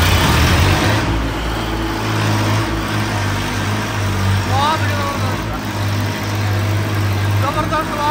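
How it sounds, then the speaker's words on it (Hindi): A Massey Ferguson 8055 tractor engine's steady low drone runs throughout, loud and close, with a voice talking over it at times. "जबरदस्त आवाज है भाई ट्रैक्टर की"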